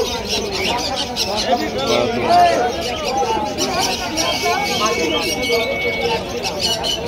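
Pigeons coo and chirp continuously at a busy pigeon market in Krishnagar, with soft overlapping calls over a background of crowd chatter and voices.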